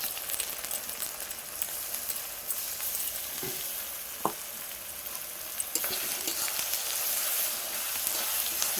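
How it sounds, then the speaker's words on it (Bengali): Onion, tomato and ginger-garlic paste sizzle steadily in a pan, a continuous close frying hiss with a few brief clinks of stirring and no voices. "দেখো পেঁয়াজটা ভাজা ভাজা হয়ে গেছে, দিয়ে দেবো টমেটো কুচিটা, আর দিয়ে দেবো আদা রসুনের পেস্ট।"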